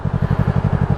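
A Yamaha 2015 R3 motorcycle engine thrums nearby in a steady, even low pulse, about a dozen regular beats across a second with no voices over it.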